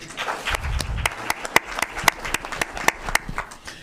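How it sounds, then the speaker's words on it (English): Scattered, uneven hand claps from a council meeting audience, sparse individual claps rather than a full ovation, moderately close with a brief low rumble early on. "Clap for that."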